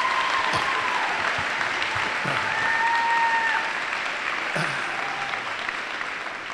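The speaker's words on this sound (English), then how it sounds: "Give yourselves a nice round of applause." Audience applause at an academic decathlon super quiz event, steady dense clapping from a large crowd that continues for several seconds, with a few faint tonal sounds mixed in.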